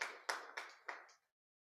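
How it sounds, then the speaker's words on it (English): A few sharp claps ring out at a seminar, four distinct hits in quick succession, fading fast into silence, like a small scattered round of applause. "A round of applause again for Mrs. Maeda Satoko"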